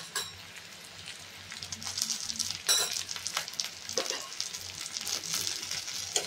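Tomatoes with salt and turmeric sizzle and fry in a pan over sautéed onion, a steady crackling hiss with stirring scrapes, up close and without talk.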